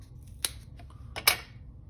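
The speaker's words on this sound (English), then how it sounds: "So we're cutting." Scissors cutting foam tape for a handmade card, two quick crisp snips about a second apart, close and fairly clear over a low steady room hum, with nobody talking.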